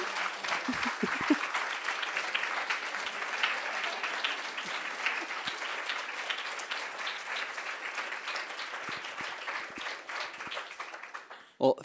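A seated audience gives presenters a sustained round of applause at a school policy pitch competition, steady dense clapping filling the room for about eleven seconds before cutting off abruptly.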